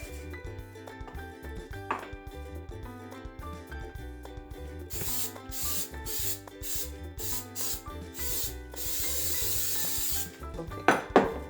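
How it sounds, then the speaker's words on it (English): Butter spray hisses out of a can into a square bowl in a kitchen, a series of short bursts ending in a longer sustained spray, heard over steady background music. "gonna get a bowl, this type of square bowl, and gonna spray it with butter."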